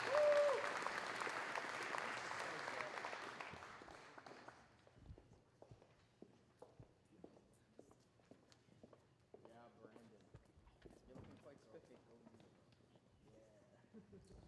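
Loud applause fills a school athletic award night for all-conference recipients, dense at first and then thinning within a few seconds into scattered claps, shuffling footsteps and quiet talk.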